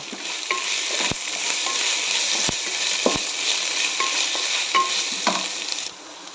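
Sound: onions and curry leaves frying in a pan

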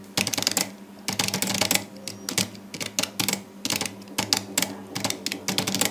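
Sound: typing on computer keyboard in Typing Master typing test

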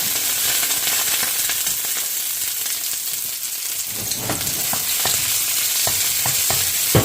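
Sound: onion and garlic sautéing in chili oil

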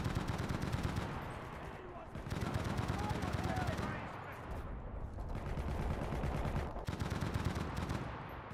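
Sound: Bren light machine gun firing in the video game Enlisted

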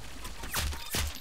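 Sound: sniper rifle gunfire, from Roblox Arsenal video game

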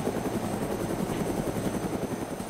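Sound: helicopter flying in the video game DayZ

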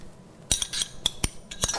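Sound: mixing the Fattoush salad with utensils

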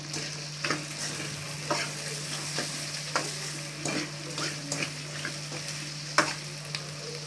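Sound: garlic being stirred and sautéed in oil

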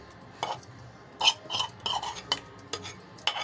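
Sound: mixing chana dal pakora batter with spices

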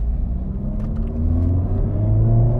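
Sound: Honda Civic Type R FL5 engine revving

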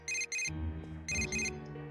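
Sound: phone ringing in Persona 4 Golden video game

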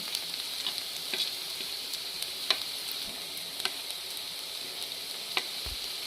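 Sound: okra and potato masala with spices cooking on high gas

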